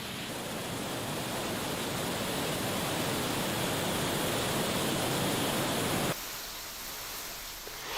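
Rivers and streams running in full flood after heavy rain, a dense continuous rushing roar of water that cuts off abruptly near the end.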